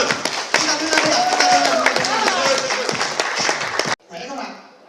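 Audience applause breaks out to welcome a guest speaker, Eric, at a live seminar on making money, dense clapping mixed with crowd voices for about four seconds before cutting off abruptly.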